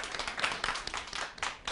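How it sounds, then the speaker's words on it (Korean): Audience clapping during a Korean history lecture event, a brief burst of uneven claps from a crowd, moderately loud with a light murmur of voices. "박수 한번 쳐주시고요."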